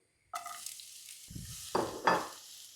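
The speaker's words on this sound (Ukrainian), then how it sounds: "сюди відразу додаємо обжарюватися цибулю" Onions hit a hot pan and start sizzling loudly, with a couple of scraping stirs bursting through the steady frying hiss.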